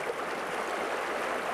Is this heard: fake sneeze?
no